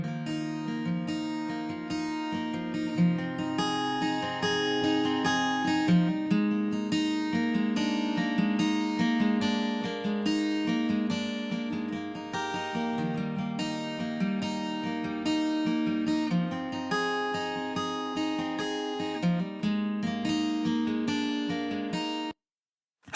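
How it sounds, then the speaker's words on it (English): Electric guitars in a Dolby Atmos music mix, sent to four front speakers to spread them wider, play as full-band music at a steady level for over twenty seconds, then cut off abruptly. "You're going to hear an effect of the guitars becoming a little bit wider."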